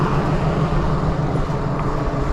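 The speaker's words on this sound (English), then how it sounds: "now we got the sound of the cars." Road traffic rushes past near a walking trail, a loud, continuous broadband roar of passing cars with no pauses or voices.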